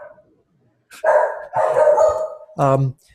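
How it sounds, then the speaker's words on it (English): A pet dog at home barks three times in quick succession, loud and close, each bark sharp and short with brief gaps between them. "I have my dog here."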